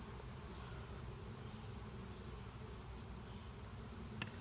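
Honeybees from an open beehive keep up a steady, even drone, a continuous hum with no breaks and a faint click near the end.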